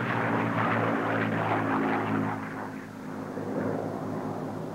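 Propeller racing planes roar past at the 1979 Reno Air Races, a loud, steady droning engine note with a rough buzzing edge that swells and then eases slightly as the aircraft pass.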